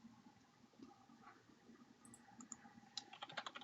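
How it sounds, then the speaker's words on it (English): Quiet, irregular clicks of someone typing code on a computer keyboard, faint and sparse at first, then a quicker cluster of keystrokes near the end. "just going to go ahead and start typing some code here"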